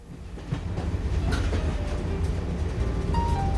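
The Canadian passenger train rolling on rails through the Coast Mountains toward the Fraser River Canyon, a steady close rumble with rhythmic wheel clacks and a brief metallic squeal.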